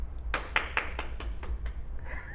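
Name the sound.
audience applause for a guest poet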